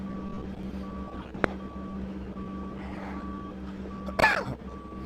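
Truck reversing alarm beeping in a steady evenly spaced pattern over a low engine hum, moderately distant, with a sharp click and a brief rattling clatter near the end; no talking.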